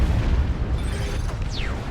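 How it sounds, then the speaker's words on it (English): A plasma cannon shot in the Dawn of War 2 video game lands as a loud, heavy explosion with a rumbling low boom and a falling whistle at the tail end. "that's a plasma cannon shot, and down it goes"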